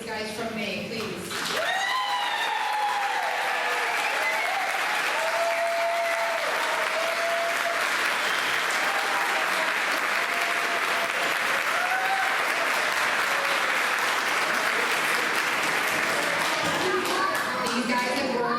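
Audience at a 5th grade school band concert at Lloyd Road School claps steadily for about seventeen seconds, a dense, even wash of applause after a brief voice at the start, with a few faint voices mixed in.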